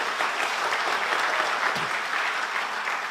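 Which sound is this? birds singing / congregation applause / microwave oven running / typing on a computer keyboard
congregation applause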